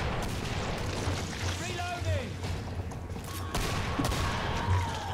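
Hand cannon gunfire in a video game: a dense run of shots and booming bursts over a busy, noisy game soundscape, with louder hits near the end.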